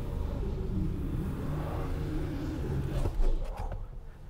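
A 2020 Hyundai Palisade AWD engine drones steadily while driving off-road with one wheel lifted, a low, continuous rumble that swells briefly near the end with some clunks from the vehicle.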